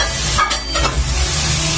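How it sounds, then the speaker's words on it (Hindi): Desi ghee goes into a hot pan while motichoor laddu mixture is stirred, giving a short burst of soft sizzling and scraping stir sounds that stay steady and close, with no talking. "तो इस टाइम पर डालूंगी मैं इसमें देसी घी"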